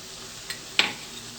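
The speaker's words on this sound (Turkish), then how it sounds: "2 kaşık çorba kaşığı tereyağım var. Bu şekilde onu koyuyorum." Two tablespoons of butter go into a pot of tomato rice pilaf: a faint tap, then one short hissing clatter that fades quickly, with no one speaking.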